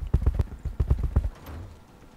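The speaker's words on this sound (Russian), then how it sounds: "Вот эти гномы слишком громко топают." Gnome units stomp in Might and Magic Heroes 7, making a loud, rhythmic run of heavy thudding footsteps close by that trails off into a softer rumble.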